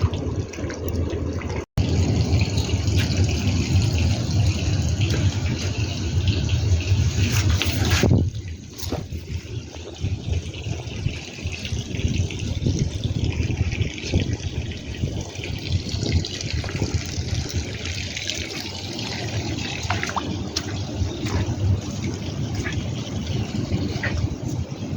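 Strong running water gushes steadily outdoors during cleaning in Kuwait, a loud continuous rush that briefly cuts off near the start and thins slightly after about eight seconds before resuming.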